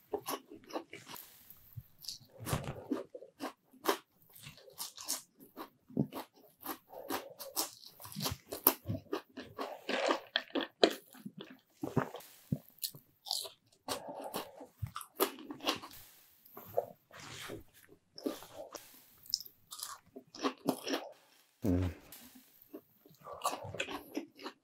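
Crunchy Lotteria cheese sticks are bitten and chewed up close, with many sharp, crisp crunches spread irregularly over about twenty-five seconds and quiet pauses between bites.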